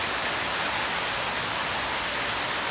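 Rain falls as an even, unbroken hiss, fairly loud and close, with no voices or other distinct sounds.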